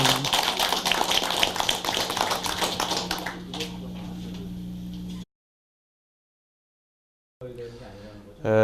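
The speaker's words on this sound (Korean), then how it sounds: "단체장님들 다시 한번 좀 시장님한테 박수 좀 쳐주세요." Audience of local group leaders applauding the mayor at the 2015 Jeongnam-myeon New Year greeting ceremony, a loud burst of clapping mixed with voices that thins out, drops to silence, then talk resumes.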